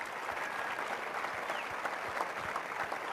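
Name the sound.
applause for the legends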